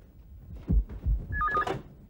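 A telephone rings once in a short electronic trill during a comedy scene, fairly faint over a low thumping background, with no talk over it.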